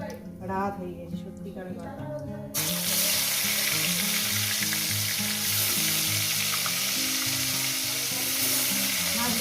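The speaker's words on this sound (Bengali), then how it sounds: "মশলাগুলো দিয়ে দিলাম একেবারে ভেজে নিয়ে" Spices and fish fry in a pan for a fish curry with potato, eggplant and lentil dumplings, a loud steady sizzle taking over after a few seconds of quieter kitchen sounds with a voice, then continuing close and constant.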